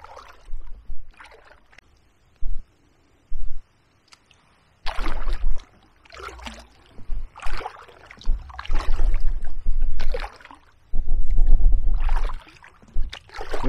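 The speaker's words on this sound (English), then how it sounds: "I'm paddling too hard." A canoe paddled along the River Stour between weirs, with intermittent paddle strokes and splashes of water, some louder bursts and quiet gaps between them.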